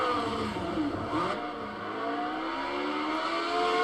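A race car engine in Project Cars 2 at Cadwell Park drones and revs continuously, its pitch sliding up and down through gear changes, loud and close with no talking.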